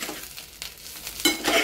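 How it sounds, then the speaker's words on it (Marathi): Green chickpea (harbhara) bhaji is stir-fried in a spiced oil tempering, giving a short burst of sizzling with scraping stirs and a louder hiss near the end. "हिला असे छान परतून घ्यायचे"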